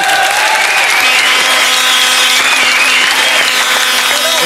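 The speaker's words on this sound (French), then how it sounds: "Je propose qu'on l'applaudisse." Studio audience applauding on a French television talk show, a dense, steady wash of clapping that fills the whole stretch at full volume, with a few faint voices mixed in.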